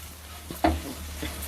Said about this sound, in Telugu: ఈ విధంగా కలుపుకోవాలి వేసుకుని.